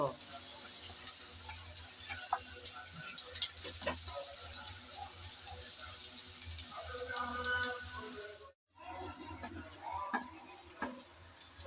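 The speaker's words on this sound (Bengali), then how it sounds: "সেই পেঁয়াজ দিয়ে দিলাম নেড়ে চেড়ে ব্রাউন কালার করে ভেজে নেব" Two large chopped onions frying in a pan for a cabbage dish, a steady close sizzle with scraping stirs and clinks, broken by one brief silent gap.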